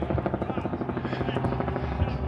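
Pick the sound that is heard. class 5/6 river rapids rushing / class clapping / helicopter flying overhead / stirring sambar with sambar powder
helicopter flying overhead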